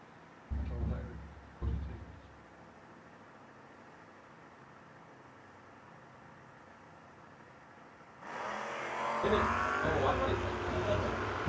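Drag race cars in a heads-up footbrake race at the World Footbrake Challenge: two loud engine bursts early, a long stretch of faint distant rumble, then a roaring launch swelling near the end.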